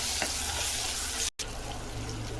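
Tomatoes and onions sizzle steadily in a pan for a village-style fish curry, a constant hiss with faint stirring scrapes and a brief gap partway through.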